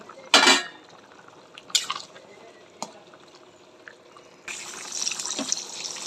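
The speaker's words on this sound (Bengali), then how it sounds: "এখন আমি গরম জল দিয়ে দেবো।" Hot water poured into a pan of curry with soybean chunks and fried potatoes, a short burst of splashing near the start, a few later drips and clinks, then a steady brighter stream of liquid filling the pan toward the end.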